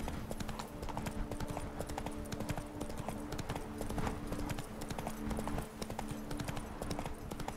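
Hoofbeats of the horse Roach in The Witcher 3: Blood and Wine, a steady rhythmic clip-clop of a trotting horse, loud and continuous with game ambience, with a brief murmur from a voice.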